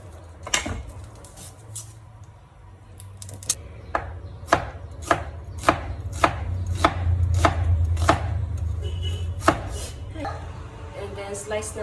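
A knife slicing a white onion on a cutting board for Filipino sweet-style spaghetti, a series of sharp, close chopping taps that speed into a steady rhythm, about a dozen distinct cuts over a low background hum.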